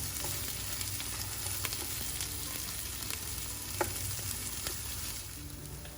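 Half an onion, sliced thin, sautéing in a pan for a Jamaican pepper steak: a steady, close sizzle with faint stirring clicks and the odd scrape, no talking.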